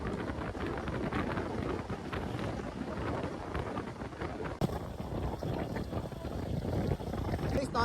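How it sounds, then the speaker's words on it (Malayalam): Strong wind roars into the microphone during a motorbike ride on a road lined with sea on both sides near Dhanushkodi, a dense and steady rushing buffet that runs throughout with a sharp knock midway. "നല്ല കാറ്റെടുക്കുന്നുണ്ട്, നല്ല കാറ്റ്."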